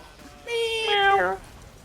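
A man imitates his cat with a single drawn-out meow, a clear voiced mew lasting about a second that rises and then falls, over quiet background.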